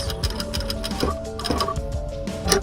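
A sewing machine stitches a buttonhole, its needle running in a steady, continuous mechanical whir with light ticking pulses, close and fairly loud, with no voices.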